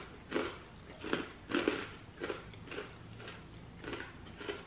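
Snack Factory Pretzel Crisps being chewed, with about eight crisp, evenly spaced crunches, close and fairly quiet, without talking.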